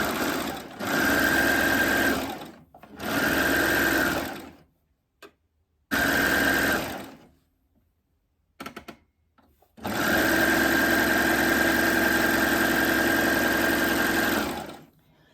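A Babylock Acclaim machine sews a rolled hem in four bursts of steady, loud stitching, separated by short pauses with faint handling noises, the last run longest.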